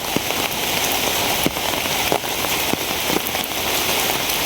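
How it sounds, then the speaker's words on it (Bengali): Heavy rain pours down outdoors near fields in a dense, loud, continuous hiss, with occasional heavier drops striking a surface. "কি পরিমাণ বৃষ্টি যে হয়েছে এই কতক্ষণের ভিতরে"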